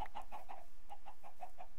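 Chickens in the Minecraft video game cluck in a steady run of short, repeated calls, close and fairly loud, with no talking over them.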